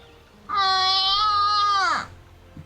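A person imitates an injured cat with one long, drawn-out, whiny meow lasting about a second and a half, loud and close, ending in a downward slide.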